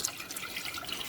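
Water pours steadily into a cooking pot for rice in a home kitchen, a short, soft splashing trickle heard alone.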